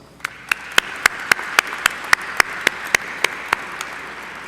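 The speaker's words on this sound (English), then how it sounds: "Graduates, let's give them a round of applause." An audience at a December 2017 university commencement ceremony claps in unison, a regular rhythmic beat of about sixteen sharp, loud claps spaced evenly, roughly three per second, over a soft background murmur.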